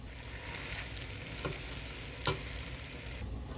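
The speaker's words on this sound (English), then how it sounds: "Now we're just going to mix that up." Spinach stirred into curry chicken in a hot pan, a steady close frying hiss with a few soft spoon knocks and scrapes against the pan.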